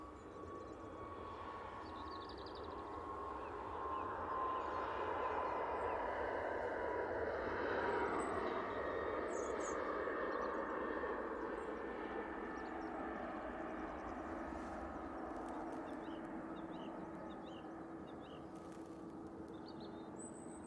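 A Boeing 737 MAX 8 with AT winglets on its takeoff roll at Manchester Airport, heard as a distant, steady jet roar that swells toward the middle and slowly eases off, with no one talking.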